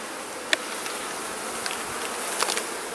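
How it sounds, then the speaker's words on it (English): Honeybees buzz steadily in a nuc box during hive installation, a dense close drone throughout with a few sharper passes of individual bees near the microphone. "you see that that this is a really nice nuke box of bees so far"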